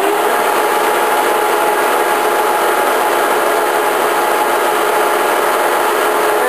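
A table-type horizontal boring mill with its spindle running at its top speed of 1220 RPM, producing a loud, steady, unbroken mechanical whine and hum at close range.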